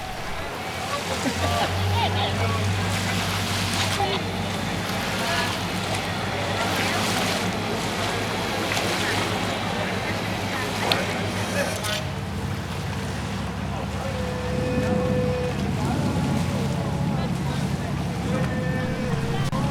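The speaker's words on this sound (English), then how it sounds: "The 2 boats have to make several trips back and forth to the cruise ship" Steady engine drone of a small tender boat under way from a cruise ship to shore at Fanning Island, with wind and water noise throughout and some voices talking in the background.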